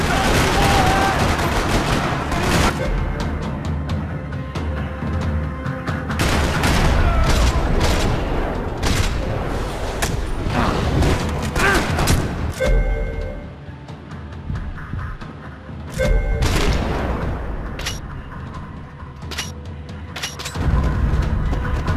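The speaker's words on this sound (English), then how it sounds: "Another parking lot rattling with gunfire." Gunfire in the Max Payne 3 video game, set in a parking lot: dense bursts of rapid shots and booming blasts crackling throughout, loud and close, with brief lulls between volleys.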